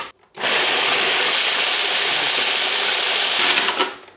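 A kitchen machine grinding hard, stale bread into breadcrumbs starts abruptly and roars loudly and continuously for about four seconds, close up and with no voices.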